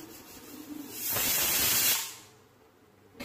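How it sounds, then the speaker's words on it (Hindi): A pressure cooker on the stove, cooking mutton, vents a burst of hissing steam for about a second, loud and close, then fades back to a quiet kitchen background. "क्योंकि प्रेशर कुकर पे ना जल्दी जल्दी सीटी आती है"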